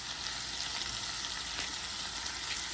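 Pork pieces with garlic sauté in a pan for adobo, giving a steady, even sizzle. The hiss stays close and constant for a few seconds, with no talking over it.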